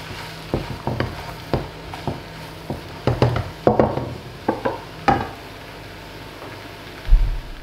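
Mushrooms frying in a pan over raised heat: a faint, low sizzle beneath a series of sharp utensil taps and scrapes against the pan, spaced irregularly, with a heavier knock near the end.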